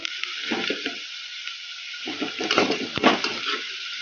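Onions fry in a pan for drumstick sambar, giving a steady hiss close by, broken by scattered crackles and stirring scrapes, with no talk.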